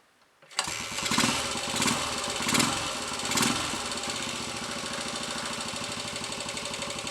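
A Royal Enfield 250 five-speed motorcycle engine catches and starts running, a rough, steady drone with a few early revs, then settling into a continuous loud idle.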